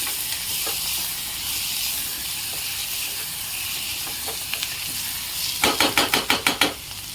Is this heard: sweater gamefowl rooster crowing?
no